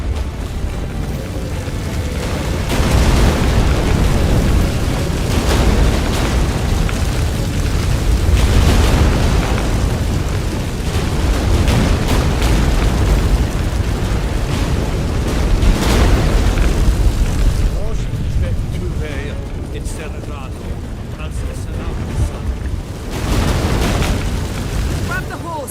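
Deep, rolling earthquake rumbles shake the ground in The Witcher 3, building in heavy bursts of low booming noise that swell and ease repeatedly, with in-game voices speaking over parts of it.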